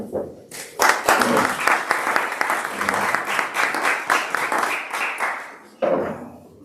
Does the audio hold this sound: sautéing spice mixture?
no